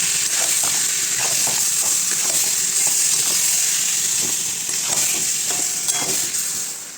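Chicken frying in a wok with very little oil and a few cardamom pods, a loud continuous sizzle and hiss broken by repeated scraping stirs at close range, with no talking.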